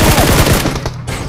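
Automatic gunfire in PUBG, a fast burst of close loud shots in quick rhythm for over half a second, followed by quieter scattered shots.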